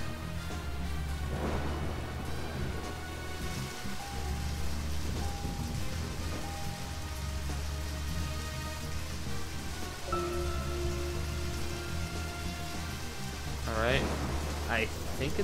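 Steady rain in the video game Deadly Premonition hisses continuously across the whole stretch, with a low hum underneath and faint game tones and brief chirpy sounds near the end.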